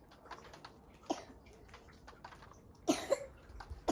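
A child coughs outdoors in the snow, with a few distinct bursts heard fairly close over a quiet background. Faint scattered ticks and bird-like sounds are also present.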